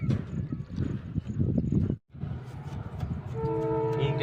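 Rumbling rail clatter of a passing train, loud and steady, with a brief dropout midway and a rising tonal horn-like hum near the end.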